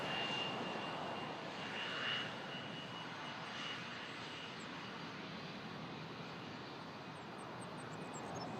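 An Air Canada Boeing 777 jet on approach at Toronto airport gives a steady, broad engine roar with a faint high whine, holding fairly constant throughout with no talking.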